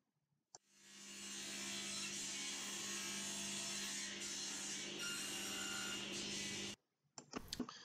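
A table saw rips the sides of a wooden block for an end-grain cutting board in one long steady whine lasting several seconds, then cuts off, followed by a few clattering knocks.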